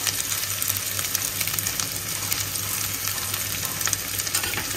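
Mixed vegetables fry lightly in a pan with a dense, even sizzle and crackle that holds steady throughout, close and fairly loud, with no talking.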